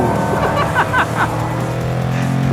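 A Jaguar F-Pace SVR engine roars loudly up close, its deep snarl rising and surging in a few quick bursts over the short stretch.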